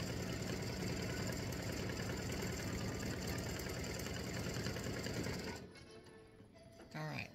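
Sewing machine running steadily as it stitches an open zigzag for tic tac toe game pieces, a loud continuous mechanical whir that stops near the end, leaving quieter handling noises.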